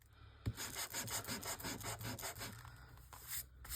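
Rhythmic back-and-forth scraping of a sanding block on wood, quick regular strokes with a sharp knock at the start, close and moderately loud.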